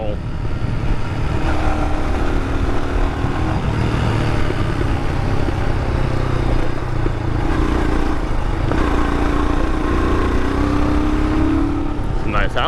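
2022 Royal Enfield Himalayan motorcycle ridden briskly along a paved road, a continuous engine drone mixed with heavy wind rush, close and steady throughout.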